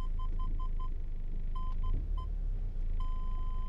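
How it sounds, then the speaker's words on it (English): A parking sensor beeps in quick even pulses that pause, resume, and then merge into one continuous tone as the vehicle closes in, over low engine rumble. "All right, it's beeping."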